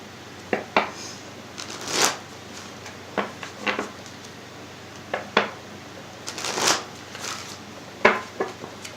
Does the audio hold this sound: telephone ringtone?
no